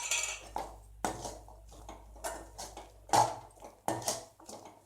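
A utensil scrapes and clinks against a pan while stirring sundal made with coconut, raw mango and peas, in several sharp taps and scrapes in a quiet kitchen.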